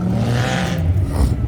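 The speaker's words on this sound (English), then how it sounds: "That Honda sound damn good." Honda car engine revving loudly while leaving a Houston car meet, a close, raw, continuous roar with rising harmonics, alone without talk.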